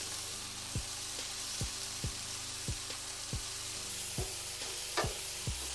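Zucchini and other vegetables stir-fry in a pan with a soft, steady sizzle, punctuated by a regular series of low knocks and scrapes from stirring, about one every half second, close and fairly quiet.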